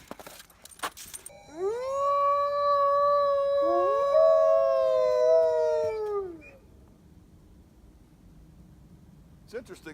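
Two dogs howl together in a long, loud, sustained rising-and-falling chorus lasting several seconds, close by, with brief clatter before and silence after.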